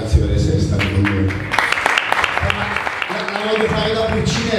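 An audience in a Naples café applauds at a book presentation, with steady clapping under someone talking loudly over it.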